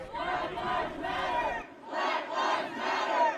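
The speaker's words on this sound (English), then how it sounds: "as night fell on Monday, police arrested dozens demonstrating outside the state capitol" A crowd of protesters demonstrating outside the state capitol at night, chanting in loud rhythmic unison, the voices rising and falling in repeated waves.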